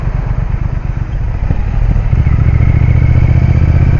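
A motorcycle engine idles close by, a steady, loud, low throbbing rumble with mechanical clatter, holding an even note throughout with a slight swell partway through and no voices.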